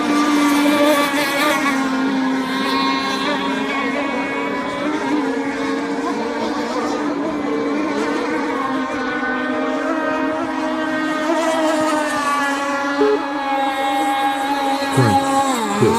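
A Black Mamba radio-controlled racing boat on a Florida lake gives a continuous high, whining motor drone with shifting pitch, loud and steady throughout, alone without talk.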